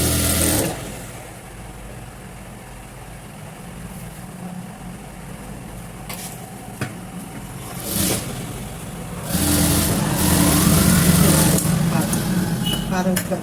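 A sewing machine stitches a fabric hem with a steady mechanical whir that grows louder and busier toward the end, while someone talks over it.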